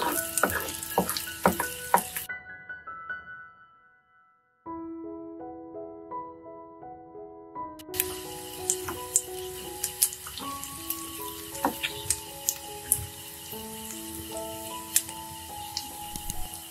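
Spices and chilli pieces temper in hot oil in a pot, giving a crackling sizzle that cuts out briefly and then returns. Clear ringing tonal notes play over the sizzle, and no one speaks.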